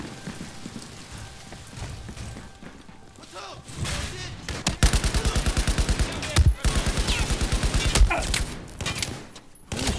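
Gunfire from a gun in Battlefield 4, loud rapid automatic bursts starting midway, with brief pauses between strings of shots over a noisy battle background.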